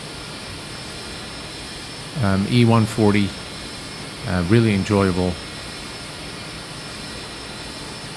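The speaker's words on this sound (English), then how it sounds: "I think we have a good start on the right engine." An ERJ E145 jet engine, the right one, starting up in the X-Plane 11 flight simulator, sustained as a steady whining roar beneath two short bursts of someone talking.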